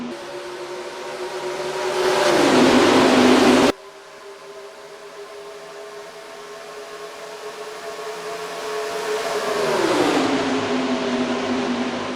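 Stock cars roar around Homestead in the NASCAR Racing 2003 game at the green flag, a loud sustained engine drone that rises and falls in pitch as the pack passes, with an abrupt cut partway through.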